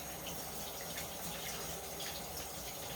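Tap water runs steadily from a faucet into a sink while coconut oil is rinsed off, a continuous close splashing hiss with no talk.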